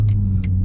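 A Corvette's engine idles in track mode with a steady, deep, throaty rumble close by, while faint higher whooshes drift in and out and no one speaks.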